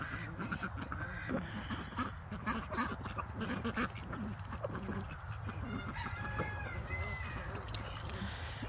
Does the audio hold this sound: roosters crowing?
yes